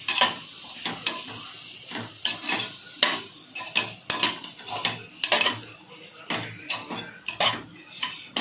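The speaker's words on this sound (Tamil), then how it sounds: "மசாலா போட்டு நல்லா கிண்டிக்கிங்க" Masala stirred into vegetables in a pan for veg noodles, a busy irregular string of metal spoon scrapes and clanks against the pan over a light sizzle, close and clear with no speech.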